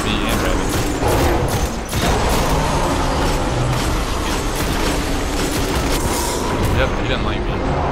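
Dense, continuous weapons fire rattles during a video game strike in The Summoning Pits. Loud rumbling shots pile together with booming impacts and heavy ground-shaking noise, and voices talk now and then.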